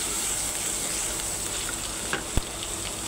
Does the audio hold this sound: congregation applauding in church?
no